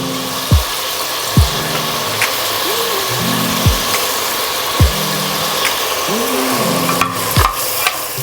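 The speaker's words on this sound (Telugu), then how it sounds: "ఇప్పుడు ఇవన్నీ కలిపి మళ్ళీ ఫ్రై చేయాలి" Biryani ingredients, with mint and coriander added, being stirred and fried together in a pan: a continuous sizzle under regular knocks and scrapes of the spatula, roughly one stroke per second, close and fairly loud.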